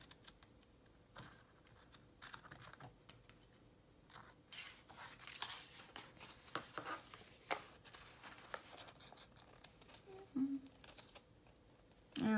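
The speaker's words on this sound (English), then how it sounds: "then what I will do is trim my little pieces so that they'll be flush with the paper" Quiet close-up snips and rustles as scissors trim small paper pieces flush with a journal page, irregular soft cuts and paper handling with a faint voice briefly in the background.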